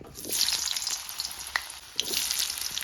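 Potato pieces fry in hot oil with a continuous hissing sizzle, moderately loud and close, with occasional pops and light clicks and no voices.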